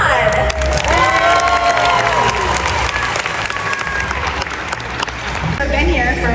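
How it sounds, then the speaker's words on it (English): Loud crowd applause and cheering fill an indoor aquarium dolphin show arena, steady throughout, with whistles and shouts rising over the clapping and a voice breaking in near the end. "an even bigger round of applause for our newest dolphin trainer, Juan"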